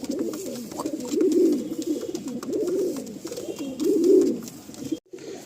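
A rare, strong jack pigeon coos in three or four rolling, throaty bursts, close and moderately loud against a faint background, ending abruptly.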